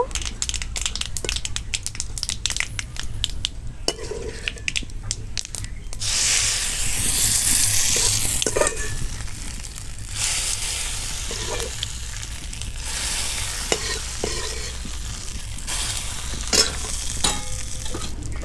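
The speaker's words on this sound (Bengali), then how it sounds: "ফোড়নটা রেডি হয়ে গেছে, এবার আমি চাটনির মধ্যে দিয়ে দেব।" Hot tempering for a South Indian medu vada meal is poured into chutney and gives a loud, hissing sizzle that swells and then settles into steady frying crackle, close up with no talking.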